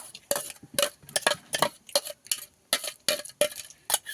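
Coconut paste being scraped out of a mixer grinder jar with a spoon, a rapid series of sharp close metallic scrapes and taps in an uneven rhythm.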